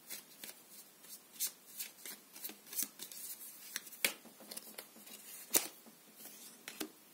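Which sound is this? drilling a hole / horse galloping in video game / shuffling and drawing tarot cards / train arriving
shuffling and drawing tarot cards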